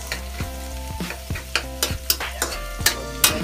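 Garlic fries in a pan until browned, sizzling steadily while a utensil scrapes and taps the pan in an irregular rhythm, close and fairly loud with crisp scraping accents.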